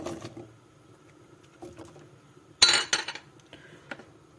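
Carrots and zucchini are dropped into a pot of red lentil soup, giving a few soft kitchen clinks and one sharper clatter midway, faint and close with no talking.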